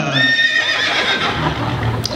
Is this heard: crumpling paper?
no